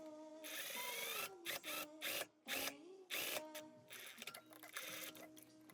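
A sewing machine stitches the hem of a dress at a 3 cm allowance, running in several quick, close bursts of rapid mechanical whirring separated by short pauses.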